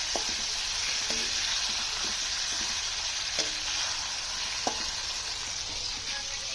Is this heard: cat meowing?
no